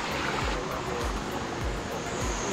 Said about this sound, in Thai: นี่แหละคือน้ำตกที่เป็นเอกลักษณ์ของเขานะครับของที่นี่เลย